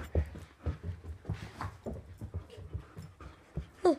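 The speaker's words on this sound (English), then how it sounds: "Molly, I'm being attacked by dogs." Pet dogs panting and whimpering up close during rough play, with quick breathy puffs, soft whines and scuffling in an irregular rhythm, fairly quiet overall.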